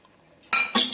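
A spoon scrapes and clinks against a cooking pot while flour is stirred into chickpea greens: two quick, close metallic knocks after a brief near-silent pause.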